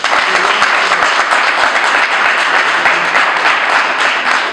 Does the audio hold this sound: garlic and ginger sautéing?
no